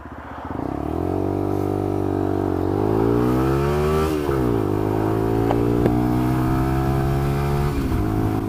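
A Lexmoto LXR motorcycle with a water-cooled engine being ridden, its engine droning loud and steady close by as it rises and falls through revs and gear changes.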